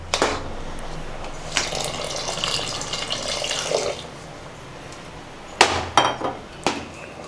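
Water pours steadily into a pot of mutton kurma for a few seconds, then stops, followed by several sharp metallic clanks of cookware.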